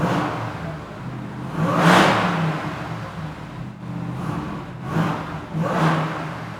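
The V8 of a 2027 Ram 1500 SRT TRX revs through its dual exhaust, rising in three deep, roaring swells over an idling rumble, close and alone without talk.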